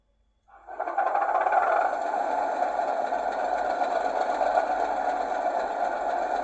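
Heljan Class 37 model diesel locomotive with an added second speaker in its sound system starts up from silence, a sudden engine rumble swelling then settling into a steady, close, loud idle.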